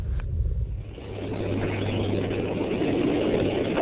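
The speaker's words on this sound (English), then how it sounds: "the three engines are preparing to begin a throttle back up" Deep, steady rumble from Space Shuttle Columbia's three main engines during launch, a continuous low roar with no voices.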